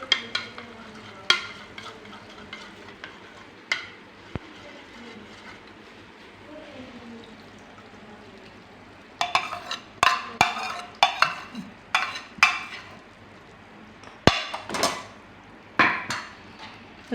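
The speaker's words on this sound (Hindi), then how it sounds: "अब हम इसमें अंडे डालेंगे" Five beaten eggs go into fried onions in a pan for an onion egg bhujia, with a utensil scraping and clinking against the metal in irregular bursts over a low cooking hiss, busier toward the end.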